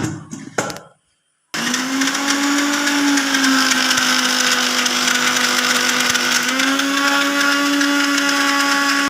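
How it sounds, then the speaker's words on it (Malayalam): A mixer grinder blends jelly with water, starting with a brief clatter, then a short pause before a loud, steady motor whir that holds throughout with a slight pitch shift partway. "ഇനി നമ്മളിത് മിക്സിയിൽ ബ്ലെൻഡ് ചെയ്തെടുക്കാൻ പോവാണ്."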